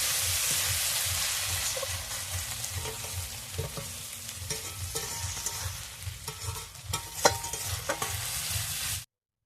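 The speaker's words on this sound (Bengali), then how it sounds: "মশলাটাকে ভালো করে ভেজে নেব" Onion-based spice paste with slit green chillies and chopped tomato fries in a pan for a raw-mango chicken curry, a steady sizzle with repeated scraping stirs and clinks, close up, ending abruptly.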